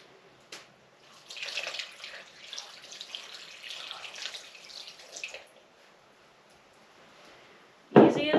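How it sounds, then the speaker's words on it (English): Plain water poured over a pot of historic 1805 gluten-free dessert, a splashing pour of several seconds that trails off, followed by a sharp close knock at the end. "we're just going to pour some plain old water over it."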